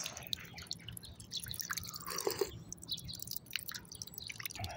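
Water dripping outdoors in a quiet neighborhood: faint, irregular drips and small splashes scattered over a low background hiss.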